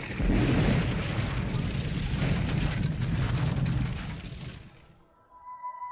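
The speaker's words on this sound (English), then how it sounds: "they can also refer to pyrotechnics, explosions and roaring fires created in a controlled manner" A deep, rumbling blast with broad roaring noise that sustains for several seconds, then fades into quieter ringing tones.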